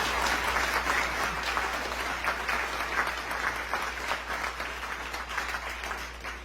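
Steady audience applause at a candidate forum in La Quinta hosted by Trilogy, welcoming the candidates; dense, continuous clapping from a large crowd in a hall, with no speech over it.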